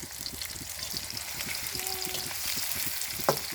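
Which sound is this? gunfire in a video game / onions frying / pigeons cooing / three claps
onions frying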